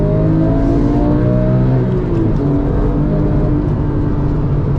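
A Porsche 996 driven on a track, heard loud and close from inside: a strong engine drone that dips in pitch, then climbs again as the car pulls through a gear.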